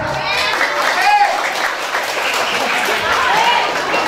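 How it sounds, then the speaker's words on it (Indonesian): Applause from a community youth gathering fills the space, steady and fairly loud, with crowd noise and voices mixed in throughout. "Berikan tepuk tangannya."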